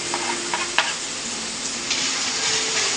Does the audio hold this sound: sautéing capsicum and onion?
yes